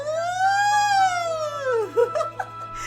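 A voice imitates a police siren, with a long rising and falling wail followed by a few short giggling sounds, close and loud.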